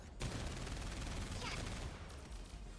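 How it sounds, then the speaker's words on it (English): Arm-mounted machine cannons firing in 13 Sentinels: Aegis Rim make a faint, continuous rattling roar of rapid shots that holds steady for nearly three seconds with no talking. "destroy the enemies using the arm-mounted machine cannons"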